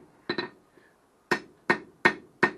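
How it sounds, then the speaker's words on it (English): A cross peen hammer strikes 3/8 round stock while a wall hook is forged: two quick ringing blows, a pause, then four sharp, evenly spaced metallic hits that ring briefly, close and loud, with no talking. "take the cross peen, since it's a smaller surface area, and just finesse this hook back"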